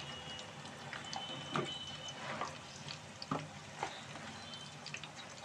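Green chillies fry in oil in a pan for Hakka noodles, a steady sizzle with occasional stirring scrapes and clinks.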